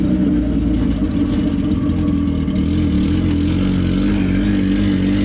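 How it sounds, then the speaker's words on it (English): Turbocharged Honda Civic-based Bugatti Veyron replica accelerating, a loud, steady, close engine roar with a faint higher whine above it, no voices. "I can hear the turbo."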